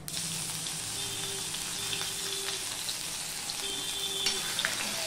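Grated ginger dropped into cumin seeds frying in a pan, a steady, close hiss of sizzling oil with faint stirring scrapes, while a voice or music murmurs softly underneath.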